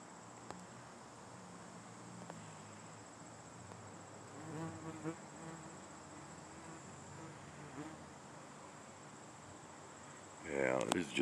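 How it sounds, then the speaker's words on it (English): Bees buzz around a person outdoors under a cloudy sky, a faint steady drone with brief swells as one passes near, ending in a louder close buzz near the microphone. "we got a lot of bees out here."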